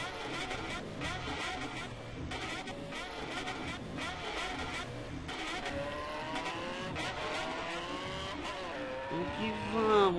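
A Yamaha XJ6 motorcycle in GTA San Andreas roars as its engine climbs through the revs, with shifting engine tones, tire noise and game sounds, loud and continuous, while a voice talks over part of it.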